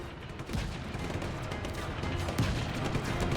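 Tank cannon fire in Just Cause 3, a dense rumbling barrage of blasts and booms under continuous roaring game noise, loud and steady with no distinct single shot.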